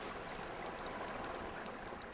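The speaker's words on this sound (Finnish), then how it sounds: "kuulee, että tuolla jään alla virtaa vuolasvesi" Fast water rushing beneath ice in a frozen Lapland gorge, a dense, even, steady roar without breaks.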